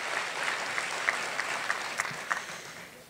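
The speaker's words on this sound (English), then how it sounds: "Let's give her another round of applause." Audience applause for a singer after her song at an awards breakfast, a steady wash of clapping from a large crowd with a few sharper individual claps standing out, moderately loud and without talk.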